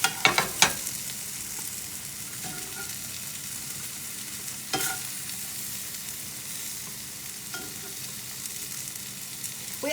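Pork pieces frying in a hot pan, a steady low sizzle running throughout with a few sharp clinks and stirring knocks near the start and midway.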